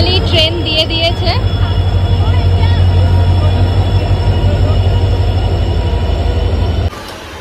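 A passenger train arrives at an Indian railway station with a short burst of high wheel squeal at the start, then a loud, steady rolling rumble of the carriages that drops off sharply at the end.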